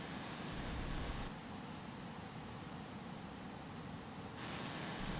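An airplane lands on a runway in a flight simulator, a steady, fairly quiet engine drone with broadband rush whose hiss shifts in level partway through, with no talking.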